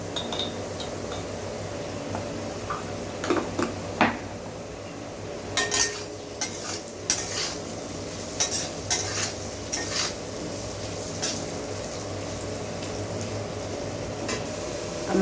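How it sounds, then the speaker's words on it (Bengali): Potatoes with turmeric fry in a steady sizzle while a utensil stirs and clinks against the pan in irregular bursts. "আলুটা আমার লালচে করে ভাজা হয়ে গেছে,"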